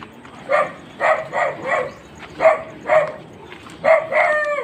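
A dog gives a series of short, evenly spaced barks or yips, about eight in a row, fairly close and clear with little else around.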